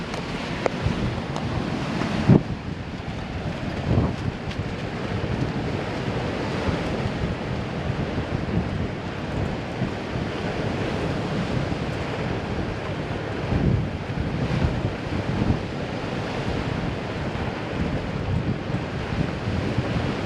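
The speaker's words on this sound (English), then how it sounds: "Just bear with the wind though. It's blowing a gale on shore too." A strong onshore gale buffets the microphone through an open car window, roaring steadily over the constant wash of ocean surf, with no talk.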